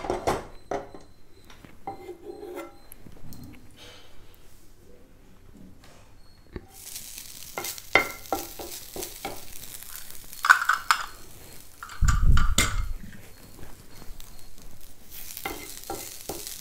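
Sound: grated coconut roasting in ghee with stirring

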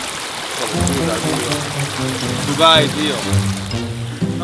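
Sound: mountain stream water where hunters soak their feet

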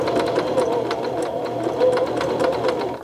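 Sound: sewing machine stitching a buttonhole

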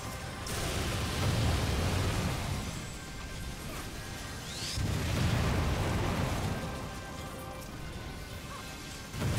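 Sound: explosions in a video game

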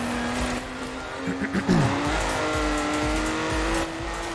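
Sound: racing car braking with tire squeal in Forza Horizon 4 video game

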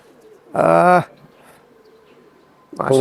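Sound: local Giribaj pigeons cooing

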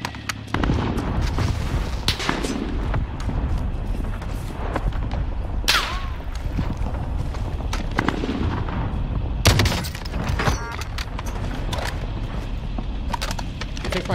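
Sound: cluster airstrike explosions and gunfire in the video game Call of Duty Warzone

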